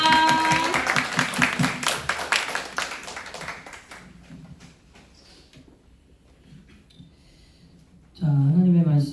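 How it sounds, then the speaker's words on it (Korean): A church congregation at a Thursday prayer meeting claps warmly to welcome the pastor, with dense, sustained applause that tapers off into quiet room noise before a speaker's voice returns. "응원의 박수, 감사의 박수를 이렇게 치면서 우리 환영하도록 하겠습니다."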